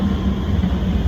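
An MRT train pulls into the station with a steady low rumble and hum, continuous and fairly close, with no voices over it.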